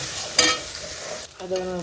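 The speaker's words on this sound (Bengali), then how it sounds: "তাই ভাজা হচ্ছে হালকা করে, এইভাবে ভাজতে হবে" Boiled garlic fries gently over low heat with turmeric and chilli powder, a soft close sizzle broken by two scraping stirs of a spatula in the pan.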